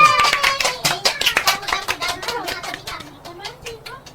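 A small group claps with quick, uneven hand strikes at a comedy drama celebration, loud at first and thinning out over about four seconds, with children's voices mixed in.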